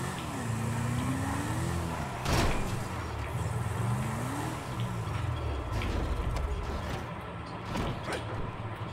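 A car in GTA V driven at full power gives a steady, loud engine drone with creaking, mechanical tones throughout, plus a brief bang partway through.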